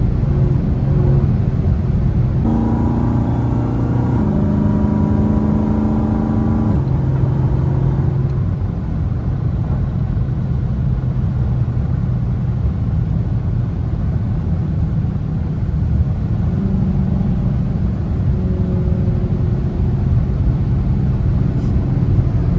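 A Dodge Hellcat cruises along with a loud, steady low engine rumble and road noise from inside the car. The engine note rises briefly in the first few seconds, then settles into a constant drone.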